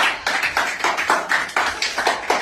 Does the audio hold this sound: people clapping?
yes